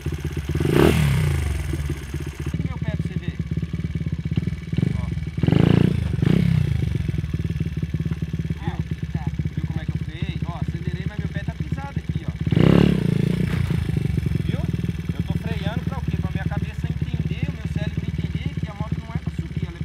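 A small motorcycle engine buzzes and revs up in a few surges, with rattling and clatter between, close by.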